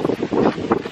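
Gusty wind buffets the microphone outdoors at a neighborhood tennis court, loud rumbling bursts that swell and fade in quick succession over less than a second.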